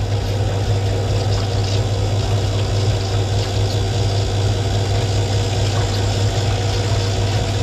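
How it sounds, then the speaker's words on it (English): Pump running during cylinder barrel honing on a motorcycle rebore job, a steady loud machine hum and whir with constant low drone throughout, no talking. "Sorry for the noise, it's the pump."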